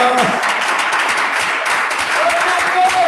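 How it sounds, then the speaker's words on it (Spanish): A church congregation applauds loudly and continuously, dense clapping filling the whole stretch with a few faint voices underneath. "Aplaude esos santos al Señor de la gloria."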